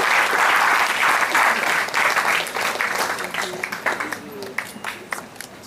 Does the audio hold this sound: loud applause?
yes